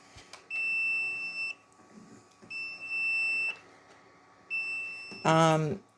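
An older, secondhand egg incubator with its lid off sounds its alarm in three steady high beeps about a second long each, separated by pauses, followed by a brief burst of voice at the end.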